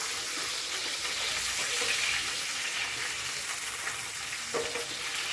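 Chicken pieces fry in a small amount of oil with a steady, dense sizzle that holds throughout. There are faint stirring touches and no talking.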